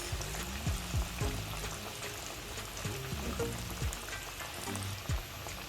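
Meat coated in flour frying in hot oil, a steady broadband sizzle with occasional pops and bubbling bursts, close and continuous for several seconds with no talk.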